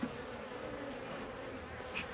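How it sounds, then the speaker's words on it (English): Guard bees buzzing steadily at the entrance of an open hive during a swarm queen cell harvest, a close, continuous insect drone with no talking. "Those are guard bees."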